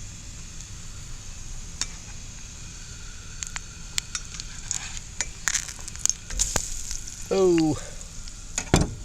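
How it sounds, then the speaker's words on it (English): Cornbread fries in hot grease in a Lodge cast iron skillet at a campsite, a steady close sizzle broken by pops and spatter, while a voice speaks briefly. "Fried cornbread, cast iron skillet. It's a Lodge brand."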